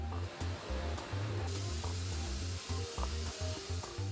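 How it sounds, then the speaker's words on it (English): A laser cutter slices through steel sheet for wood-burning stove walls, giving a steady hiss with a low pulsing machine hum and faint periodic clicks, loud and continuous. "It's loaded into a laser cutter that slices through the steel like a hot knife through butter."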